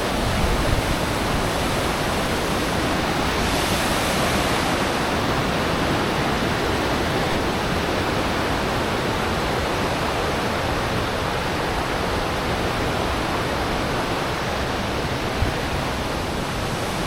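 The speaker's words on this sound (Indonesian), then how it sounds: "Dan itulah curug di sebelah sana, guys. Airnya cukup lumayan deras." Curug Cilaki waterfall pours with strong flowing water, a loud, constant roar heard close and unbroken throughout.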